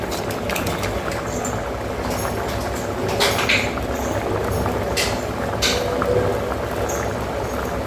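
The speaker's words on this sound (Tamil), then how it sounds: "இப்போ கிரேவி ஓரளவு கொதிச்சாச்சு" A pot of thick gravy bubbles and simmers steadily, with soft popping and hissing throughout and a few louder bursts near the middle.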